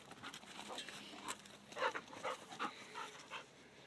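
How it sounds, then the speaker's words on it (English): A dog panting and pattering about during an evening game of ball in a garden, quick soft breaths and small bursts of movement, close and fairly quiet. "That's our dog, Riot."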